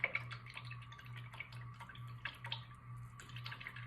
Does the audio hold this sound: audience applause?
no